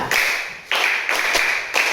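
A small group claps hands at a class presentation, a few sharp distinct claps with ringing tails, spaced unevenly and close by.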